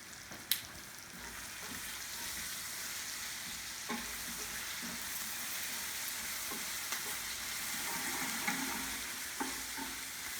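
Squash skins frying in oil in a pan with salt, a steady quiet sizzle with occasional soft clinks of stirring.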